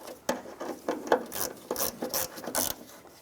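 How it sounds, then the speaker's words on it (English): Close ratchet wrench tightening a headlight bolt on a 2008-2017 Buick Enclave, with a series of quick clicking ratchet strokes in an uneven rhythm. "And use the ratchet wrench for this one."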